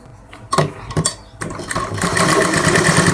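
A sewing machine stitches fabric for a puff sleeve on a suit, starting with a few short loud bursts and then running in one steady, close, continuous whir.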